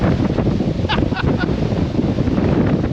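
Strong wind gusts buffet the microphone on a sheer cliff top, a loud, continuous rushing roar with faint voices briefly audible underneath.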